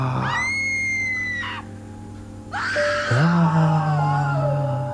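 A voice imitates a girl screaming loudly, with a sustained high shriek, a brief break, then a second wavering cry that slides down into a moan, close and loud.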